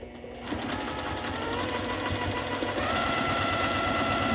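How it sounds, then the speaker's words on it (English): A sewing machine runs a continuous line of stitching along a fabric edge while a pocket is sewn onto a print, a steady close mechanical whir that picks up slightly toward the end. "just run a line of stitching around the edge and use that"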